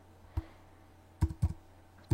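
A handful of separate keystrokes on a computer keyboard, close and quiet, as a few isolated clicks spaced across a short moment.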